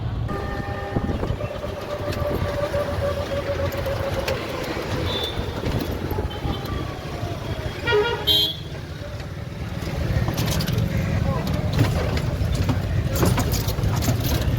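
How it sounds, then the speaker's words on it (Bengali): Busy street traffic at Tribeni market crossing in Bengal rumbles continuously, with engines passing close by and several short car horn toots, while voices are heard faintly in the mix. "এই যে ত্রিবেণী বাজার ক্রস করছি, ত্রিবেণী মোড়"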